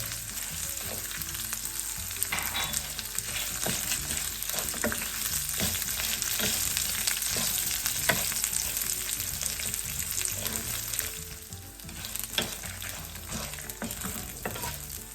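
Dried red chillies frying in a pan give a continuous crackling sizzle, with scattered sharp pops and occasional stirring scrapes, close and loud with no talk.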